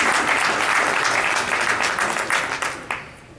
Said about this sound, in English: Please clap hands for this organization.